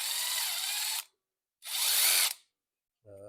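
Power drill with a bit enlarging holes for 4mm magnets in a Prusa XL side filament sensor part, two loud whirring bursts of about a second each with a gap between, then a short low hum.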